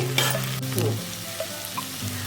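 A spoon stirs coconut chili powder into capsicum fry in a hot pan, giving a steady close sizzle with scraping stir strokes and no voices.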